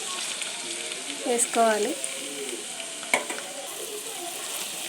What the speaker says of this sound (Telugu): ఆయిల్ బాగా హీట్ ఎక్కిన తర్వాత సన్నగా కట్ చేసిన ఉల్లిపాయలు అలాగే పచ్చిమిరపకాయ ముక్కలు అయితే